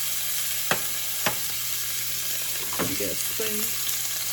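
Strips of bacon sizzle and crackle steadily in a hot frying pan, a close, continuous hiss with a few sharp pops and utensil scrapes, while a voice briefly speaks near the end.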